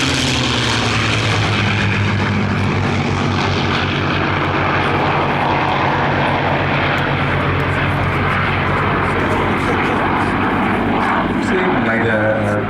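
Several P-51 Mustang propeller fighters, alongside Buchons, fly at the Flying Legends airshow, their engines making a steady, loud, continuous drone that holds for the whole stretch and swells slightly near the end.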